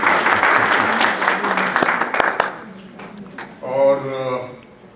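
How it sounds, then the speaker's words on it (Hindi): An audience at a literary poetry gathering in Atlanta claps in a brief burst that fades over a few seconds, after which a voice speaks. "तालियां बजाइए।"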